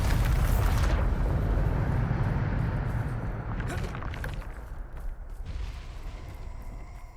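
A heavy magical blast from the Bombarda spell in Hogwarts Legacy lands with a loud, broad boom at the start, then rumbles and debris noise gradually fade over several seconds.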